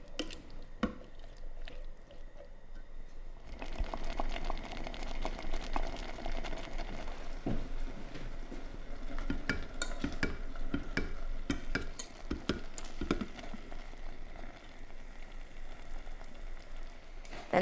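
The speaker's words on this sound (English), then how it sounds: "cook over a medium heat for about 10 to 12 minutes, stirring often and giving those beans a gentle squash with a fork a few times" Spicy beans cooking over medium heat for tacos, stirred and gently squashed with a fork, soft close-up scraping, squishing and faint sizzling that comes and goes.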